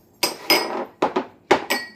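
Glass bowls clinking together in a kitchen, five or six sharp, close ringing knocks in an irregular rhythm, each with a short bright ring-out.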